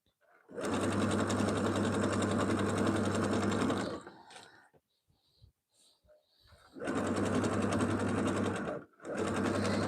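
A sewing machine tacks down lace in loud, close bursts of rapid stitching, first about three seconds long, then a pause with faint handling noises, then two more runs.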